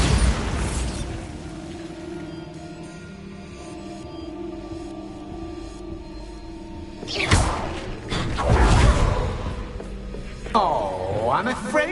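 A Bombarda blasting spell goes off in Hogwarts Legacy, a deep booming explosion with a rumbling whoosh arriving after a stretch of quieter game ambience, followed by further loud impacts, with a voice heard.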